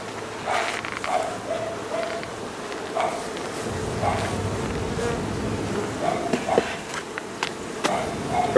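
Honey bees buzz steadily around an open beehive while a super is added, a dense close hum with individual insects droning past the microphone across the whole stretch.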